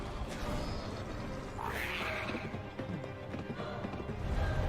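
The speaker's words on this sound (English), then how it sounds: "was that Link on the horse" Horse hooves clip-clop in a Nintendo Direct video game trailer, a steady rhythm that runs beneath music, a voice and other mixed trailer sound.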